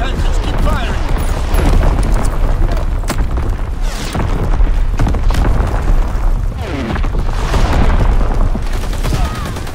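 Bomb explosions from Call of Duty: WWII in a team deathmatch on the USS Texas map roll in as loud, dense booms and rumbling blasts mixed with gunfire, with game voices heard over the din.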